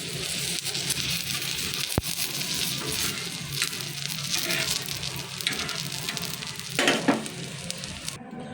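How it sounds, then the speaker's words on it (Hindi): Beef shami kababs sizzle and spatter in a frying pan, a dense, close crackle that runs throughout, with a faint clink of a utensil shifting them partway through. "ये देखें कितनी ज़बरदस्त तरीके से फ्राई हो रहा है"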